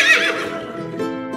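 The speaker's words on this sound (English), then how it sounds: "It's horse." A horse neighs loudly and close by, a bright whinny that starts high and shaky, then falls into a lower fluttering tail, with no other sounds present.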